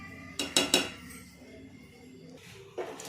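Spoons knock against dishes while semiya payasam is served: three quick, bright clinks close together, a stretch of soft scraping, then another knock near the end.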